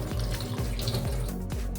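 Cold tap water runs steadily over boiled roasted vermicelli being rinsed in a sink, a continuous close splashing flow with repeated soft thumps as the stream hits the strands.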